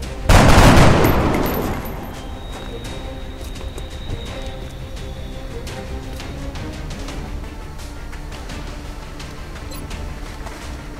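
Gunfire in the XCOM: Enemy Unknown video game: a loud burst of rapid shots up front that quickly fades into a lingering, steady battle hum and faint scattered cracks.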